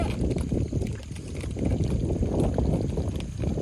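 Gusty wind buffets the microphone outdoors at night, a heavy low rumble that swells and dips, with a brief lull before picking up again.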